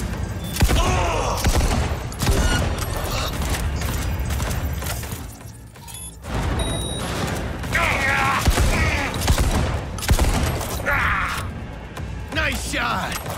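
Gunfire in Cyberpunk 2077 breaks out in heavy bursts and volleys amid thuds and mechanical clatter, loud and chaotic, with a voice talking over parts of the fight.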